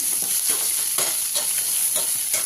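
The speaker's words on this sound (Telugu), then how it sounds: "ఉల్లి తరుగు కూడా పోపులో వేసి వేయించుకోవాలి" Chopped onions sizzle steadily in a hot-oil tempering, with a spatula scraping and stirring through them in short, repeated strokes.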